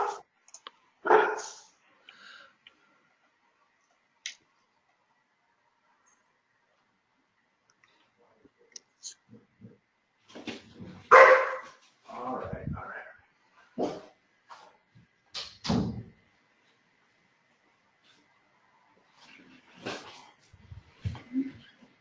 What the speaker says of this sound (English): Our dog likes to bark at the garbage man.